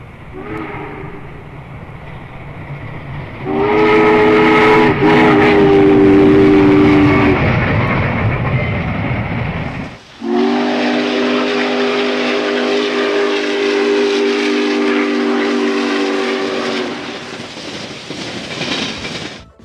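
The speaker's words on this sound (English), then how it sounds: "The locomotives were equipped with a Hancock 3-chime long bell whistle." A loud Hancock three-chime long bell steam whistle sounds a rich multi-note chord in two long blasts over the heavy rumble and chuff of a passing Norfolk & Western locomotive.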